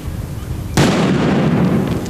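A sudden, loud blast bursts out after a short quiet stretch, then trails off in a rumbling roar: a suspicious object being destroyed inside a special containment vessel during an anti-terror drill at the Dnipro hydroelectric station.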